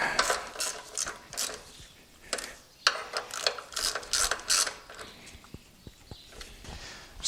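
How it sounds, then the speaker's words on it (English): Several bursts of quick ratchet clicks come from tightening the small fork pinch bolts on a Kawasaki VN1500 Meanstreak, near and crisp. Short pauses separate the bursts, and a few louder knocks come near the end. "Nip up the wee pinch bolts."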